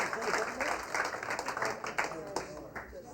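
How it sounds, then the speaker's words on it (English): Guests at a San Diego wedding reception at L'Auberge Del Mar keep up a round of applause for the bridal party, uneven clapping rising and fading in waves while voices talk over it. "And a nice round of applause,"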